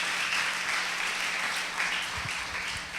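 A church congregation applauds together, a dense, steady wash of clapping that holds evenly loud for the whole stretch without any voices above it.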